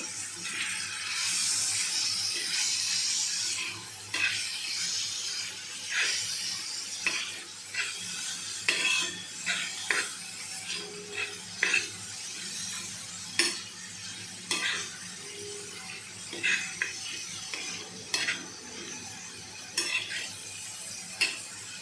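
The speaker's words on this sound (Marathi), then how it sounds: "कोळंबी आता चांगली परतून घेऊ" Marinated prawns sauté in a pan as a soft sizzle runs underneath, broken by frequent scraping stirs and sharp clinks of a spoon against the metal, irregular and close by.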